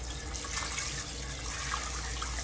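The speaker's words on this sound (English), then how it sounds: "I'm going to pour that off into a colander" Soaking water from pinto beans pours off into a colander in a steady, loud, unbroken splashing rush that lasts the whole moment.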